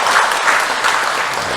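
A Catholic parish congregation claps in welcome for visiting tourists during Sunday Mass, a loud, close burst of dense, even applause that fills the room without pause.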